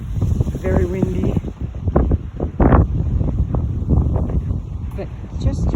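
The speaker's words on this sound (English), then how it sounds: "very windy." Strong wind buffeting the microphone outdoors in a small park, a loud low rumbling roar that gusts and swells throughout.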